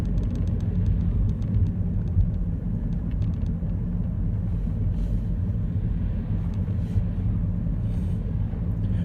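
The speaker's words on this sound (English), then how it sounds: "You're downhill as well, and I can tell you're accelerating." Car accelerating downhill during a driving lesson near Pinner, a steady loud low engine rumble with road noise inside the cabin, continuous throughout.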